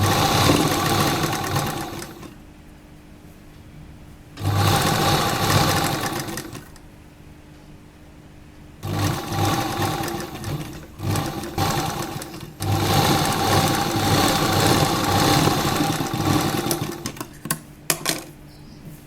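A sewing machine stitches an A-line kurta in several bursts of fast, buzzing whirring, each lasting a few seconds and separated by quieter pauses, heard up close with no speech.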